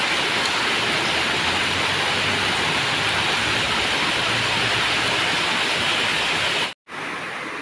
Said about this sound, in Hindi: देखो बहुत ही ज़्यादा बारिश हो रहा है